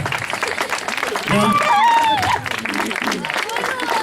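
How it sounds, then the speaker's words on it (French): Crowd applause and cheering fill the room, with a loud whoop partway through and voices murmuring throughout. "on peut encore les applaudir une fois"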